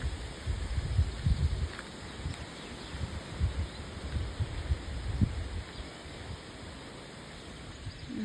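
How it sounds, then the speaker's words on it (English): Steady wind gusting outdoors along the Camino de Santiago pilgrim route in Spain, a broad rushing noise that swells and eases in low gusts, close and moderately loud with no talking. "You hear that noise? That's the wind."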